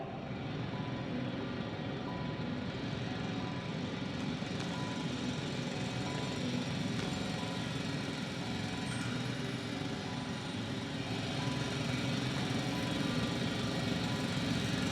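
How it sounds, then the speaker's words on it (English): A loud drill in the sci-fi video game The Invincible gives off a steady, dense mechanical drone that holds at an even level without pause throughout. "It's a drill!"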